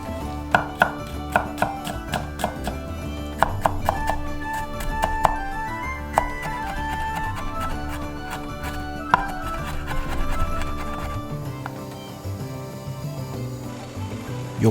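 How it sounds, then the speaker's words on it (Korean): Knife chopping broccoli and mincing garlic on a cutting board, brisk rhythmic knife strikes, loud and close, slowing toward the end with no talk. "몸에 좋은 브로콜리는 먹기 좋은 크기로 잘라 손질하고 마늘은 다져준다."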